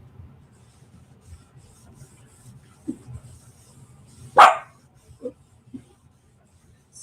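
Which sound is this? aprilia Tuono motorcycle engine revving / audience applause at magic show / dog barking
dog barking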